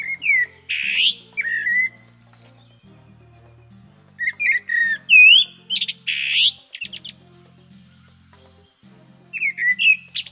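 Songbirds chirp and whistle in short bursts around an abandoned urban site overgrown with vegetation, bright repeated calls over a steady low hum, moderately close, with no voices.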